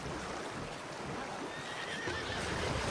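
A horse in the video game Red Dead Redemption 2 whinnies loudly over steady hoof clip-clop while riding through a swamp, a dense continuous noisy bed throughout the short stretch.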